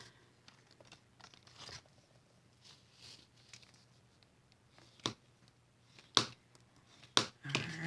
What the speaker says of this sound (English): So let's fold that.